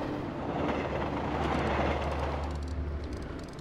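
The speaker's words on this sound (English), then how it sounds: "It's a train passing through a city." A train rolls through a city in the video game A Memoir Blue, a loud, steady rumble with a heavy low drone that holds throughout and eases only slightly near the end.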